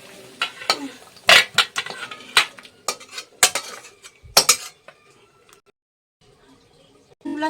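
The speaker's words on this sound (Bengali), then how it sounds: "এবার নাড়িয়ে দেবো" A spoon stirs food in a cooking pan, a run of irregular metallic clinks and scrapes against the pan with a faint background sizzle, then a quieter stretch before another clatter.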